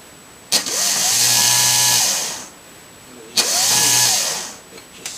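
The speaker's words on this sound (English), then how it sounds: "this will be good enough for demonstrating how this works." The motor of a Model A Ford Sparton horn, run on a 9.6-volt supply instead of 12 volts, whirs up twice to a loud buzzing drone. Each run lasts about two seconds, starts with a click and winds down, with a short silence between.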